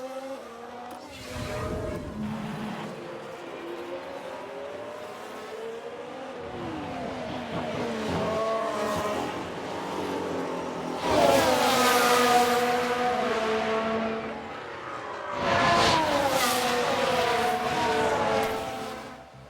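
Formula 1 cars spinning out in the F1 Manager 2022 racing game, high engine whine rising and falling with two loud surges near the middle and end, tire noise mixed in, no talking.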